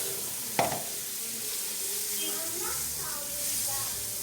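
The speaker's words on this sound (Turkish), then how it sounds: "Tereyağında parçalamış olduğumuz tavuğu kızartacağız." Pieces of chicken frying in butter in a pan, heard as a steady close sizzle with one sharp clatter near the start and faint crackles throughout.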